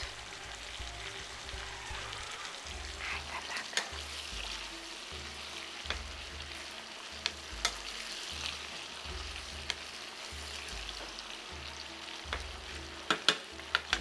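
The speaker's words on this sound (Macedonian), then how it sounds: "Додека тоа се пржи" Chopped garlic fries in hot oil in a pan, a steady soft sizzle and crackle with scattered pops, fairly quiet and heard alone without talk.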